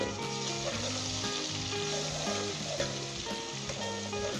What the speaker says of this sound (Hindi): इसे 1 मिनट के लिए हम फ्राई करेंगे